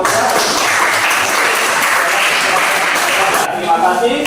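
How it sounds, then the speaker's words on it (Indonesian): Applause from a classroom audience for a student group's presentation, dense and steady clapping filling the whole stretch at close range, thinning slightly near the end. "Mari kita memberikan aplaus kepada kelompok."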